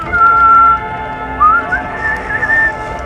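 A character whistles a wandering, clear melody in the video game Valiant Hearts, loud and close with short pauses between phrases.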